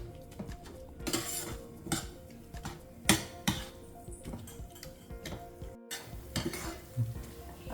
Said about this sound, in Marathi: आपण आता हा गूळ पूर्ण असा मिक्स करून घ्यायचा